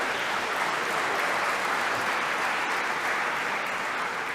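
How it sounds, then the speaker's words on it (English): An audience at a Louis Farrakhan address breaks into sustained applause, a dense, even roar of many hands clapping at a steady level throughout, with no clear speech. "And after I speak, you applaud"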